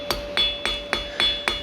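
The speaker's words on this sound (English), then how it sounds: "If you find that you're hitting your hammer on the anvil a lot" Repeated hammer blows on a hot steel leaf held over the edge of an anvil while forging veins into a leaf key ring, six sharp metallic strikes at a steady rhythm, close and clear with no talk.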